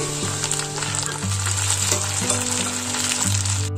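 Onions and chopped tomato frying in oil left from frying puti fish, a steady dense sizzle close by with faint stirring scrapes underneath and no voices.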